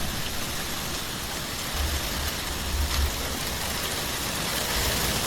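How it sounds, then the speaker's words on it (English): Heavy rain pours down steadily during a severe monsoon storm in Arizona, a loud, dense and continuous hiss of downpour with faint low rumbling underneath and no voices. "That's the craziest storm yet."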